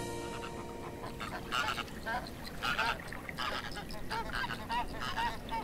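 A flamingo breeding colony on Lake Tuz, the vast salt lake of central Anatolia with its sun-baked salt pans, keeps up a dense, continuous chorus of overlapping goose-like honks and gabbling calls, steady and fairly loud throughout.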